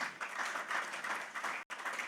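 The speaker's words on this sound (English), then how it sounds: "So once again, please, a round of applause for that." Audience applause at an insurance company's app launch event, a steady wash of clapping from a crowd that runs for about two seconds with a very brief gap near the end.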